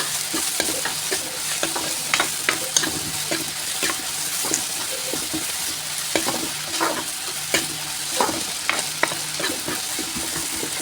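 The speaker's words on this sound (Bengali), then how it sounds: "এবার একটু নেড়ে চেড়ে দেবো।" Chicken kosha masala with Kashmiri chilli powder sizzles in a pan as a spatula stirs and scrapes through it, steady frying hiss broken by repeated sharp scraping knocks against the metal.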